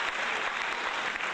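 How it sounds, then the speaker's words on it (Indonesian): Applause fills a church service hall, a dense, even patter of many hands clapping together for a brief moment. "Boleh tepuk tangan untuk Tuhan kita Yesus Kristus."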